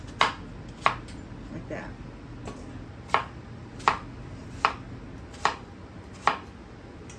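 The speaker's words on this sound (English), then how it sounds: "So now we're going to cut these apple pieces into 1-inch cubes." A knife chops apple pieces into cubes on a cutting board, with about eight sharp, evenly spaced knocks that ring out clearly and up close, and a brief spoken remark between them.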